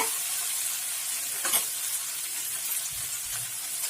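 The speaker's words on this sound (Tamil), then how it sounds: "தக்காளி வெங்காயம் நல்லா வதங்கிடுச்சு" Tomato and onion sautéing in a pan for a cauliflower masala gravy, a loud continuous hissing sizzle with a brief stirring clatter midway.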